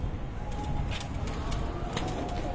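A Teddy cross-breed pigeon coos softly over a low, steady background rumble, with a few faint chirps scattered through.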